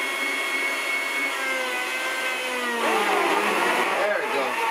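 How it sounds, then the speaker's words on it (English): A blender making guacamole salsa whirs steadily at high speed, its pitch shifting and rising partway through as the motor works under load. "So keep in mind, I don't have the best blender."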